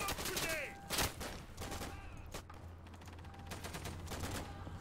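Sustained machine gun fire and scattered gunshots crackle through a World War II battle in the shooter game Day of Infamy, a steady barrage with bursts, faint background voices in the mix.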